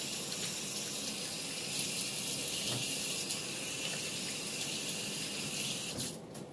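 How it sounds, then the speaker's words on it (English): Tap water runs steadily into a sink while hands are rinsed underneath, a continuous close splashing hiss that cuts off near the end. "Rinse off my hands."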